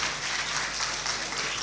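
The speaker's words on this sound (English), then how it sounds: "Round of applause." An audience at a nursing college orientation program bursts into applause, a short, full burst of many hands clapping at a steady level with no voice on top.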